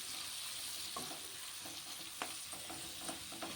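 Thinly sliced onions fry in a pan for egg potato kurma. A soft, continuous sizzle runs throughout, with a few faint stirring taps.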